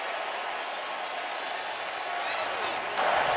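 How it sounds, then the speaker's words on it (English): Loud, steady roar of a stadium crowd at a Denver Broncos home football game against the Kansas City Chiefs, a dense wash of cheering and noise that swells louder near the end, with a commentator talking over it. "a big reason why is because of this crowd noise"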